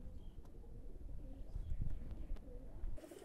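Golden and Shiyalkuti pigeons coo softly, faint low murmuring calls close by in a quiet setting.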